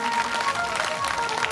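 An audience at a Shrimad Bhagavat Katha religious discourse in Rohtas, Bihar claps together in a dense, continuous burst, with a voice mixed in over the applause.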